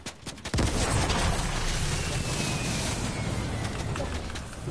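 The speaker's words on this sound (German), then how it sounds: "von da schießt jemand auf den Heli" Gunfire in a video game with a helicopter nearby, a loud burst opening into dense, continuous shooting and rumbling that fills the whole stretch.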